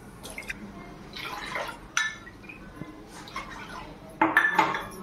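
Water splashes and pours in short bursts into a metal pot of gram flour, measured with a bowl that clinks against the rim between pours.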